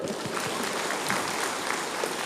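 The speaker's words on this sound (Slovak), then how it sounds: "Potlesk." An audience claps continuously with dense, even applause, steady and moderately loud throughout.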